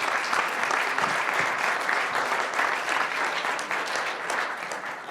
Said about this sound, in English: I actually want big applause for her